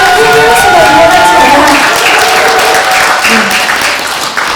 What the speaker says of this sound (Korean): 박수 치시면